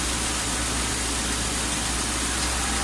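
A Lincoln Town Car idles steadily with its air conditioning running, a loud, even engine drone and fan hiss that holds constant throughout with no talking.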